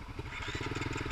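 A motorcycle rumbles with a steady pulsing engine beat as it is ridden along a trail, close and continuous for a brief moment.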